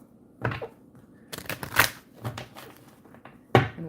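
Tarot cards riffle and flutter in several quick bursts, a deck being shuffled close up with short pauses in between.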